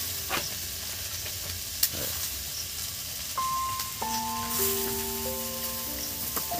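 Potatoes dropped into a pan for an oil-free bitter gourd and green banana dish give a steady, close sizzle throughout, with sustained tones joining in the second half.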